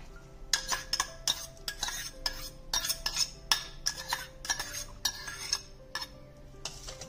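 A spoon stirring coarse salt into a mixture for a stuffed grape-leaf sauce, with brisk, rhythmic clinking and scraping against a bowl, steady and close, with no talking.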